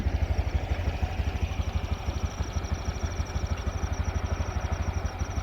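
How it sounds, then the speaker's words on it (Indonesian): Motorcycle engine idling steadily with the key locked and handlebar locked, a close, even, rapid putter with mechanical clatter and no talk. "Kan kekunci motornya, kok bisa hidup sendiri?"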